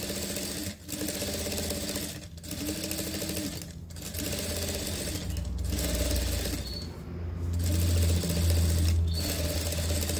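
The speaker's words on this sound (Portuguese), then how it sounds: "Passo uma costurinha nela aqui, em volta tudo, que dá um acabamento bem legal aqui." A sewing machine stitches around a trouser waistband lining in a series of steady whirring runs, broken by a few brief pauses, close and fairly quiet.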